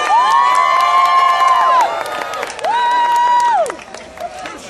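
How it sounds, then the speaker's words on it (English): A large outdoor crowd on Boston Common cheering and whooping, with loud sustained shouts that swell, break off, then rise again, along with scattered clapping. "this is a very large crowd here on the Common"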